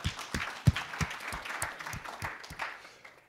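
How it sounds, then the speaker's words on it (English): Scattered, sparse clapping from a small conference audience at a networking operators' meeting, individual claps distinct and uneven, fading out toward the end. "a big round of applause"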